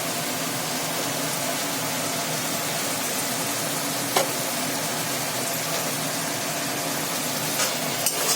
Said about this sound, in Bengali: আর এদিকে এই যে ঝোলটা বসিয়েছি, এই যে মশলা কষাচ্ছি।